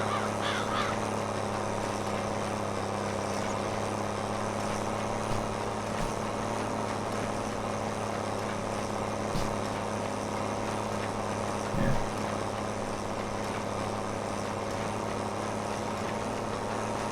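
Steady tractor engine drone in Farming Simulator 22 on a sheep-pen grass farm, a constant low hum with faint mechanical rattles, continuous throughout with no talk.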